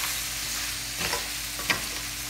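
Steady close-up sizzle of food frying in coconut oil in a pan, with a couple of soft stirring scrapes.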